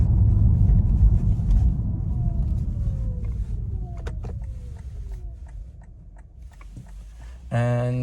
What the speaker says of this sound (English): The engine has some noise.